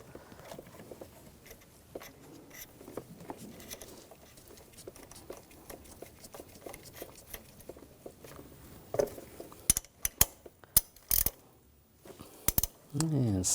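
A bolt is started and tightened on the variable valve timing solenoid bracket of a 2004-2009 Audi A4 Quattro 2.0L four-cylinder. Soft, rapid ratcheting clicks patter steadily, then give way to a few louder, sharper clacks near the end.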